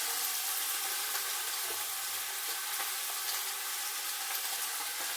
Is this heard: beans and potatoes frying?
yes